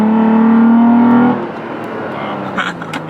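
Toyota Tacoma, third generation, fitted with a Pedal Commander throttle controller, revving in third gear: a loud, steady engine drone that cuts off abruptly, followed by quieter idle and road noise.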